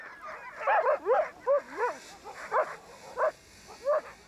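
Arctic sled dogs give a string of yelping barks and drawn-out whimpers, about six close bursts spaced through a few seconds over a quiet background.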